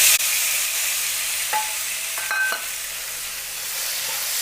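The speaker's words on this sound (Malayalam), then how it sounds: "നമ്മൾ കട്ട് ചെയ്ത് വെച്ച് ചക്ക ഇട്ട് കൊടുക്കാം." Cut jackfruit pieces frying in ghee in a pan, a steady close sizzle with a few short scraping stirs, no talking.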